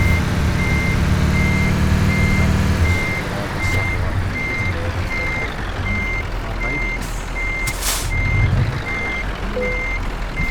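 A truck in Euro Truck Simulator 2 reverses with a regular series of evenly spaced electronic beeps over a loud, steady engine rumble, joined by a brief hiss near the end.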